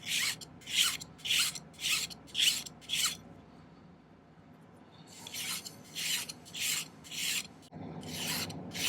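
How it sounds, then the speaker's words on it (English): A metal file rasps against the head of a handmade silver ring. Rhythmic back-and-forth strokes come close and clear in two bursts, separated by a short pause before the filing resumes. "I like to file it till I get to the bottom of that"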